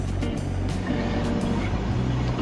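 A car heater blower fan runs at its second speed, a steady close whooshing drone with a low mechanical hum; the fan is an old, worn unit in a grandmother's car.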